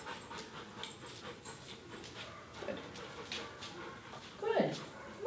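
A dog pants and whimpers softly through a session of fearful-dog aggression rehabilitation training, faint and close, with a brief louder whine near the end while a trainer's voice speaks intermittently.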